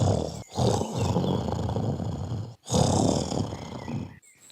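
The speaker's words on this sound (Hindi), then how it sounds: "पीछे से कालू कौवा फिर से सो जाता है और खर्राटे लेने लगता है।" A cartoon crow snoring loudly in a Hindi animated children's show: two long, rasping snores, each followed by a short pause, heard alone and close.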